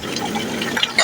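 Water is filled into a container at a river in Nepal's Gandaki region, with close, continuous splashing and gurgling and a sharper splash near the end.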